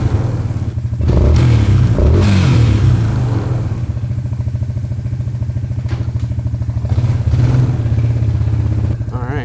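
Suzuki Ozark LTF-250 ATV engine idling with a steady low putter and mechanical clatter, briefly rising in a short rev near the start, running continuously up close with no talk.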